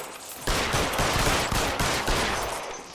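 Gunfire in L.A. Noire erupts as a loud, dense, continuous fusillade of overlapping shots that starts abruptly and roars on for several seconds.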